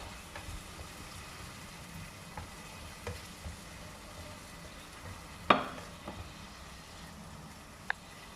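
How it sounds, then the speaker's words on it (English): Tomatoes stirred into fish broth in a pot, soft continuous bubbling and sizzle with faint scraping, a sharp spoon clank on the rim midway and a lighter tap near the end, quiet and close, no voices. "Now you add in tomatoes. Stir this."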